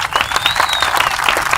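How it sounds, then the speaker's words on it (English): Audience applause at a Veterans Day commemoration in Philadelphia, a dense steady wash of many hands clapping, loud and close, with a faint whistle rising through the middle. "Applause."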